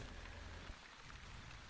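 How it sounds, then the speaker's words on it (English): Light rain falls in the village-building game The Wandering Village, a soft, steady, faint patter that goes on without a break and with no talk. "it's a light rain"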